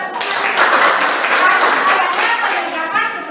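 Classroom applause during a civics lesson: a dense, steady patter of many hands clapping together for about three seconds, fairly loud and close, with a few voices mixed in.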